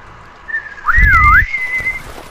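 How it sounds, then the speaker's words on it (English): A person whistles a clear rising and falling tune during a game session, about a second long, over a brief low rumble and faint background noise. "You can't whistle over the whistle."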